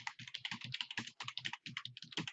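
Rapid clicking keystrokes on a computer keyboard as a search is typed, close and fairly quiet, in a quick uneven rhythm with brief pauses between words.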